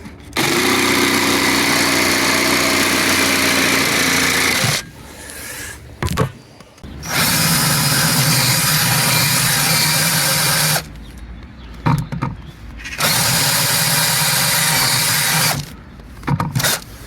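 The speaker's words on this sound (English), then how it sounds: "I've just got to cut it and drill it." A power drill runs in long sustained bursts, drilling a small wooden plinth for a set of drawers, loud and close with short pauses between the bursts.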